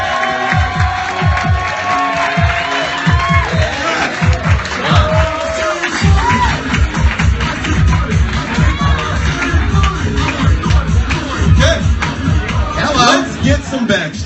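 A crowd at a live comedy roast battle cheers, whoops and applauds as comedian Keith Carey walks on, loud continuous ovation with a host's voice over it.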